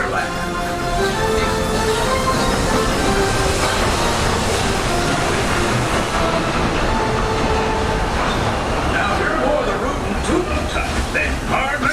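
Walt Disney World Railroad train ride in Orlando, Florida, a continuous loud rumble of rolling wheels and rattling cars, with faint voices mixed into the steady noise throughout.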